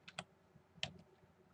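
Keys tapped on a computer keyboard number pad while playing a Flash game, a few quiet, sparse clicks: two quick presses, a pause, then another pair.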